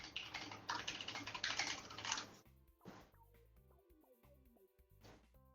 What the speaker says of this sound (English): Yeah, fucking Zach, I heard you typing